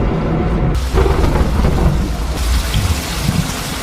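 Heavy rain pours steadily in a film scene with rumbling thunder, a loud, dense roar of downpour that swells after the first second and continues without any voices.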